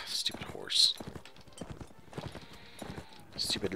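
Hooves clip-clop at a gallop in the Mount and Blade: Warband video game, with a horse whinnying sharply at moments, all beneath near-continuous talking from a player.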